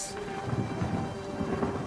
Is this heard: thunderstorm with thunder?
yes